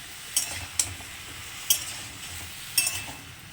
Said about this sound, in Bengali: এবার সবজিগুলোকে গ্যাসটা বাড়িয়ে ভালো করে সবজিগুলোকে মিক্স করে নিই